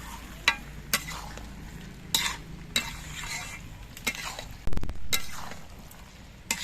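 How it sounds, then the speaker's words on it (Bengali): A spoon stirs ground garam masala into pui mituli, a Malabar spinach dish, in a pan: scattered scraping and sharp clinks of utensil on metal over a low, steady sizzle, close by and without talk. "এবার গরম মশলা গুঁড়ো দিয়ে নেড়ে চেড়ে মিশিয়ে এনে নেবো"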